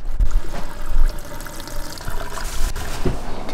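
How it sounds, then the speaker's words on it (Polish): Water pours into a camper van's water tank during a self-build install, a gurgling, splashing stream with uneven surges and low sloshing, fairly close and alone. "Pierwsze wlewanie wody do zbiornika"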